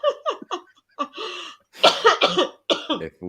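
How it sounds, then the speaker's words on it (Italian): A person coughs in a series of loud, close bursts, short hacks at first and then a longer, rougher fit mixed with laughing breaths. "tossisco."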